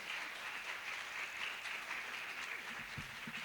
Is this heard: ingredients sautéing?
no